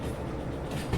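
In a railway video game, a heavy train rolls steadily along the track with a continuous low rumble and faint rhythmic clatter.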